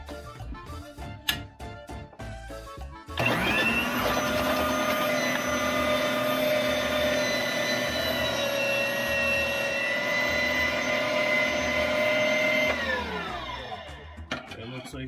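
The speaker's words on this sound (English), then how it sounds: "So we're gonna try to make Colombian chorizos with our meat grinder sausage stuffer here." An electric meat grinder with a sausage stuffer attachment, making Colombian chorizo in a home kitchen, starts up with a loud, steady motor whine that holds evenly for about nine seconds before spinning down; brief talk comes before it.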